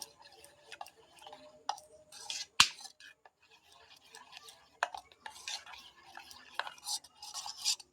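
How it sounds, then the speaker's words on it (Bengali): Neem paste being stirred into a pot of melted soap base, with light irregular clinks and scrapes of a utensil against the container ticking along quietly, one sharper knock standing out midway. "যে নিমের পেস্টটা তৈরি করে রেখেছি এটা এর মধ্যে এবার আমি ঢেলে দেব এটাকে খুব ভালোভাবে মিশিয়ে নেব"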